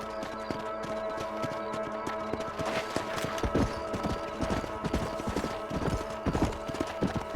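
Horse hooves clip-clop steadily in the Red Dead Redemption video game during a ride across a ranch, a close, rhythmic trot that grows busier and louder toward the end, with some game ambience beneath.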